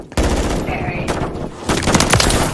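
Rapid bursts of automatic gunfire in Call of Duty: Modern Warfare 3, loud and close, rattling in quick volleys with brief pauses and a faint voice underneath.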